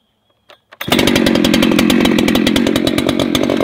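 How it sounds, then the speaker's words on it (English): A Husqvarna 3120 chainsaw with a 24-inch bar and full chisel skip-tooth chain starts after a couple of short pulls, then runs loud and close with a steady, rough, pulsing engine drone. "Husqvarna 3120, got a 24-inch bar, full chisel chain, skip tooth on this thing too here."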